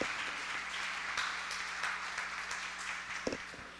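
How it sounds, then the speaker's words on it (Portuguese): A church congregation claps their hands in praise before a sermon, a steady, fairly faint patter of many hands heard from a distance in a reverberant room, with a sharp knock near the end. "Então bata palmas ao Senhor para a gente começar."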